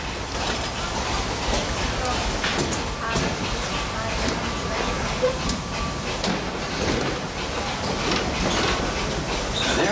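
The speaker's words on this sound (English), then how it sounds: "this steam train is a little old-fashioned, but for me, it's the only way to travel" A steam train on the Walt Disney World Railroad, Magic Kingdom, rumbles along the track with steady clattering and rattling, a continuous mechanical roar with occasional knocks and clicks.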